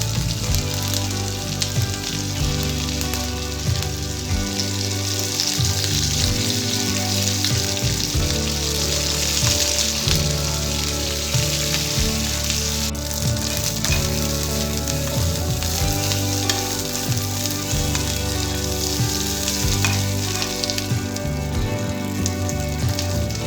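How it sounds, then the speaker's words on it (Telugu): Green chillies and curry leaves frying in oil in a pan, a loud steady sizzle with dense crackling and occasional stirring, continuous throughout with no talking. "పచ్చిమిర్చి ఫ్రై చేసుకున్న తర్వాత ఇందులో కరివేపాకు వేసుకోవాలి."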